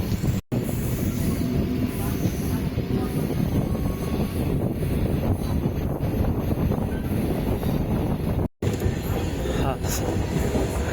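Inside the Thiruvarur MEMU passenger train on the run, a loud, steady rumble of wheels and carriage continues throughout, with brief dips and a faint metallic squeal.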